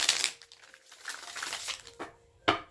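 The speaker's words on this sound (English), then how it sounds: "so that you can see me shuffle" Tarot cards being shuffled by hand, a short run of papery riffling and crinkling bursts, a lull, then two sharp card snaps near the end, close and fairly quiet.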